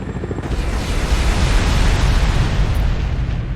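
A bridge blown up in the strategy war game Shattered Union produces a loud, continuous rumbling roar of blast noise that fills the whole moment without a break.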